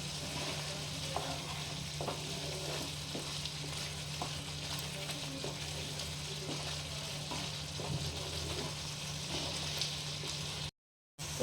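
Tomato chutney for momos bubbles and sizzles in a pan on a gas stove, a steady frying hiss with small pops, close and fairly loud, ending in a brief cut to silence.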